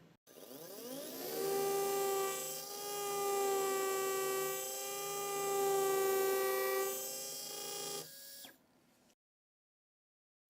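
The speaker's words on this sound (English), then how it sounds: "Place it in the sleeve and proceed with the drilling." A surgical drill whines steadily while drilling hard bone during guided dental implant surgery, holding a sustained high-pitched tone for about eight seconds before spinning down and stopping abruptly.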